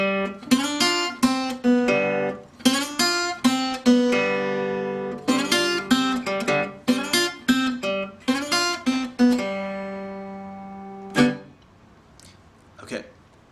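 A seven-note blues guitar lick in Delta style, plucked clearly up close, repeated in several quick phrases with a low droning bass note before a last note rings out and fades.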